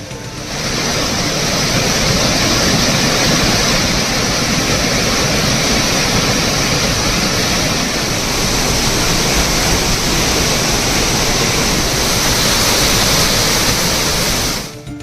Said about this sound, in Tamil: இருப்பினும் ஒகேனக்கல் அருவியில் தண்ணீர் ஆர்ப்பரித்து கொட்டுகிறது.